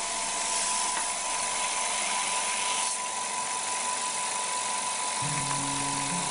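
A 12V MINBAO air compressor runs continuously after its relay switches on, giving a steady, even mechanical whir with a faint whine, fairly close, with a brief extra tonal hum near the end.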